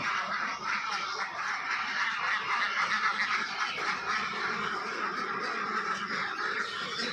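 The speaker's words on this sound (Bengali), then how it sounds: "মনিকা তুমি আগে হাঁস ছাড়া দাও" A flock of ducks quacks in a dense, continuous chorus, many birds calling over each other at close range with no pauses.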